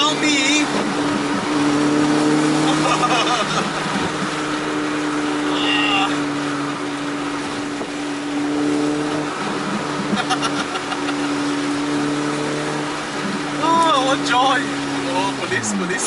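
Honda CRX driving in traffic, its engine droning and rising in pitch through several accelerations, with gear-change dips; the engine sits under someone talking.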